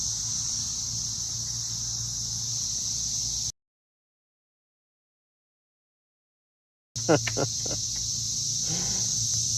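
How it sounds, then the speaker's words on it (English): Loud, steady high-pitched cicada buzzing fills the air, cutting out briefly, then returning with a few sharp clicks and rustles. "Cicadas are awful loud today."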